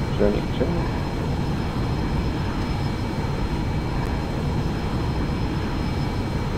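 Aircraft in the X-Plane 11 flight simulator, a steady low engine rumble and airflow drone filling the cockpit sound throughout, fairly loud and unchanging.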